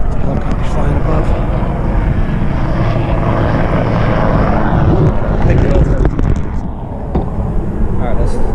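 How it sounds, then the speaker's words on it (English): A helicopter flies overhead at a winter surf-fishing spot by a saltwater creek in North Carolina, its broad rumbling drone loud and continuous, with a slight fade near the end. "Helicopter flying above."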